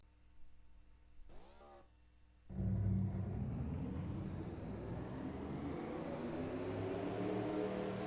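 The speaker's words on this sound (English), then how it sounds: "now let's get the cars rolling off" Cars in a Hot Wheels racing video game roll off the start, an engine roar bursting in after a short synthetic whine, then holding as a loud, steady, slowly rising drone.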